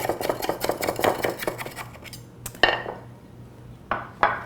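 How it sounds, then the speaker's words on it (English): A small spatula scrapes around the sides of a baked cottage cheese dish in quick, close, rapid strokes, then pauses before a couple of sharper scrapes and clinks. "I'm just going to loosen it up all around the sides"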